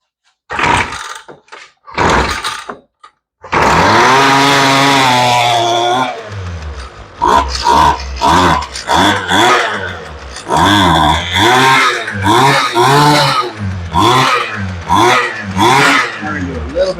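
A Poulan Pro chainsaw with a rebuilt carburetor is cranked by an aftermarket starter in a few short bursts, then catches and runs loud and close, its engine surging and revving unevenly.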